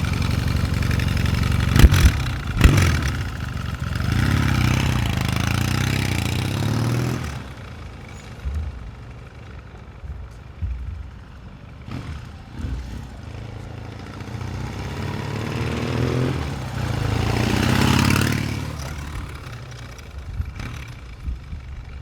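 A 1979 Yamaha XS650 motorcycle engine runs alone, loud and close, with sharp revs early on, a steadier mid-clip stretch, then another strong rise in engine pitch near the end.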